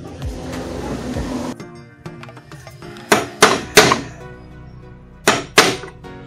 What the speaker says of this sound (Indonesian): Sebelum dibor, saya akan paku dulu bagian tengah ini supaya pas pengeboran itu tidak